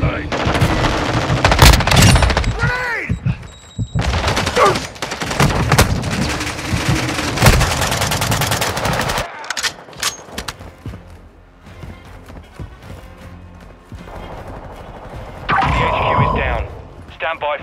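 Rapid machine gun bursts rattle in Call of Duty Modern Warfare, loud repeated volleys broken by short pauses, with game voices and other combat noise around them.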